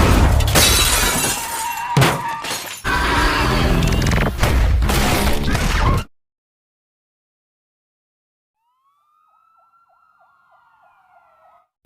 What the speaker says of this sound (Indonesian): dia segera mengaktifkan ledakan ultrasonik yang menyebabkan wanita itu hancur tak berbentuk